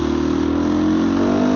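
A supermoto motorcycle engine runs close by with a steady, loud, throaty drone and a slight rise in pitch toward the end, heard alone without speech.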